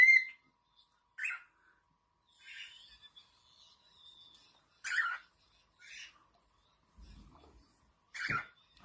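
A cockatiel calls indoors in a series of short, sharp chirps and whistles spaced a second or two apart, fairly faint against near silence.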